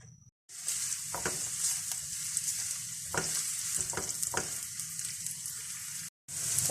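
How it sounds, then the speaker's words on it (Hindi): Chopped onions sautéing in two to three tablespoons of oil in a frying pan, a steady close sizzle with occasional stirring scrapes, briefly cutting out at the start and end. "फ्राई पैन में थोड़ा सा ऑयल शामिल करेंगे 2 से 3 टेबल स्पून और इसके अंदर डाल देंगे प्याज।"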